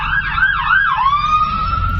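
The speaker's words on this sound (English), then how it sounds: "Cops driving right by. There goes an ambulance." An ambulance siren on a city street sweeps up and down in a steady wail. It is loud and close over traffic rumble as it passes, with no talking.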